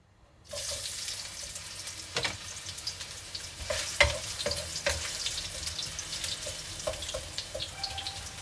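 Ginger sautéing in a pan, a loud sizzle that starts abruptly and keeps going, with a few stirring clinks and scrapes and no talk.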